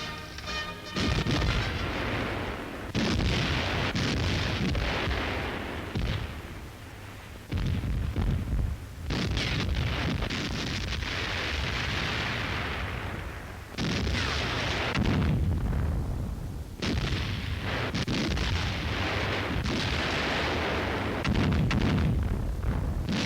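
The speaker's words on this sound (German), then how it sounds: "Schwere Flak- und Artillerie decken die Rückzugsbewegungen." Heavy flak and artillery fire covering a retreat in the Crimea near Sevastopol, recorded for a May 1944 German wartime newsreel: repeated loud booming bursts in irregular succession, each with a rumbling tail, separated by brief lulls and heard without speech.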